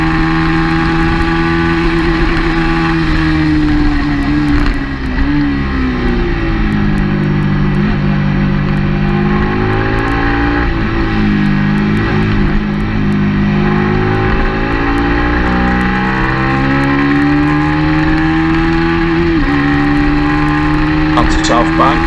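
Onboard engine of a race car lapping a circuit, a loud continuous roar that rises and falls in pitch through gear changes and corners, close and dominant throughout, with a voice talking over it.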